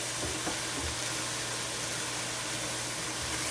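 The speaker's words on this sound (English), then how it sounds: "Onions and garlic and ginger sauteing together." Onions, garlic and ginger sauté in a pot with allspice and clove, giving a faint, steady sizzling hiss with a few soft stirring knocks.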